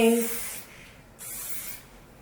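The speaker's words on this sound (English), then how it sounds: "And I just spray this all over my ends." Two close hissing bursts of hair product sprayed onto the ends of hair, each about half a second long with a short pause between them, heard alone.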